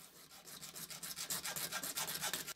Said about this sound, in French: Donc avec une scie à métaux, une lame de scie à métaux tout simplement.